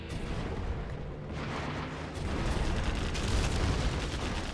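A TNT explosion in a video game: a dense, rumbling roar of blasts that swells louder partway through and keeps booming continuously without speech.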